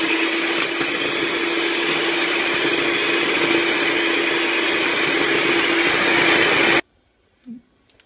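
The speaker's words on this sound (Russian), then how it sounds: "Вот мы взбили белки и потихонечку добавляем сахар и продолжаем взбивать." An electric mixer whips egg whites as sugar is added for a cottage cheese pie, giving a loud, steady high-pitched whir that cuts off abruptly near the end, followed by a brief faint knock.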